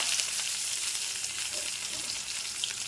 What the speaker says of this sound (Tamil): குழம்பு தலைக்கிறதுக்கு நல்லெண்ணெய் ஊற்றிருக்கிறேன் கடுகு போடுறேன் ஒரு வரமிளகா போட்டுக்கிறேன் வெங்காயம் போட்டுக்கிறேன்